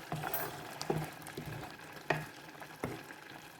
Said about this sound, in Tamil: ஒருக்கா கலந்து விடுவேன் இப்படி எல்லா இடமும்